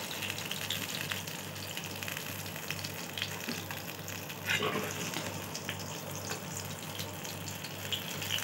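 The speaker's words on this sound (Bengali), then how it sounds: "একে একে সব মাছগুলোই আমি ভেজে নিচ্ছি।" Fish frying in oil for a Bengali cumin-paste bata fish curry: a steady, continuous sizzle runs throughout at moderate level, with a faint low hum beneath and a brief louder crackle midway; no one speaks.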